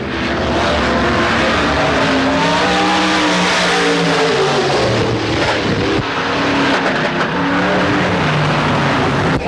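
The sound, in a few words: race car engine on a speedway during qualifying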